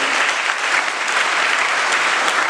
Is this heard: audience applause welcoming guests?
yes